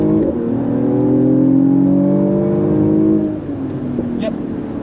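A 2021 Mercedes-AMG GLE 53 coupe with 429 horsepower accelerating hard from the cabin, its engine drone rising steadily in pitch before easing off with a gear change.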